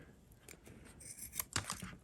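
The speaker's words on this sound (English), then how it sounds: "Just take a pair of scissors and" Scissors snipping across the rubber exhaust tee of a U.S. Divers/Aqua Lung DA Aqua-Master double-hose regulator during a rebuild, a few close, brisk cuts and rustles with no talk.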